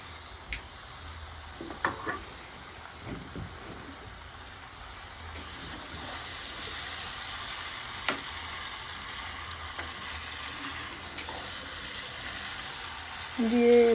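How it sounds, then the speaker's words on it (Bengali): Marinated country chicken and potatoes sizzle steadily in a pan for a curry, a soft continuous hiss broken by occasional faint clinks and stirring scrapes, ending with a brief louder knock. "আলুটা দিয়ে ভালো করে কষিয়ে নিচ্ছি। আর ম্যারিনেট করে রাখা দেশি মাংসটা দিয়ে দিচ্ছি।"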